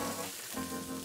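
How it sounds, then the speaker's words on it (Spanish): Spring onion sizzling in oil in a frying pan: a steady, dense crackling hiss, close and continuous, with no talking. "Vaya música, la de la cebolleta en contacto con el fondo de nuestra sartén. Ese chips, chips, chips es maravilloso."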